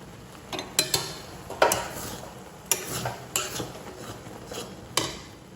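A pot lid lifted off cooking noodles, then packets of noodle masala tipped in, giving sharp metallic clinks and scraping stirs over a soft steady sizzle, close and fairly quiet.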